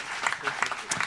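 Audience applause aboard a cruise ship greets a musician, a short burst of scattered clapping with a few louder claps standing out, fairly close, mixed with faint crowd murmur.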